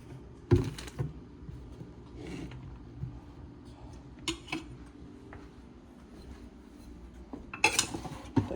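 Dishes being washed at home, with scattered clinks and clatters of cutlery and plates standing out as a few sharp bursts against a quiet background.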